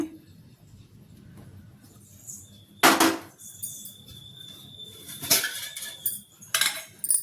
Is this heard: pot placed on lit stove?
yes